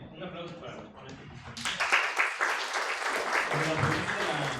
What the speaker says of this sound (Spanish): un aplauso para los ponentes